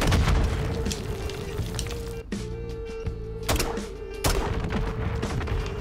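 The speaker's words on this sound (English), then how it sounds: "Mess around with the little grenade launcher." Grenade launcher explosions in Call of Duty MW3 land as several sharp booms at irregular intervals over a steady tonal game hum.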